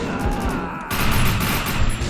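Gunfire in the video game Defiance: bursts of rapid shots crackle loudly and close, with a heavier volley kicking in after a short gap, under faint voices.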